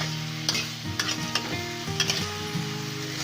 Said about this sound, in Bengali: এবার সব কিছু নেড়ে খুব ভালো করে মিশিয়ে নিয়ে ঝিঙেগুলো ভেজে নেবে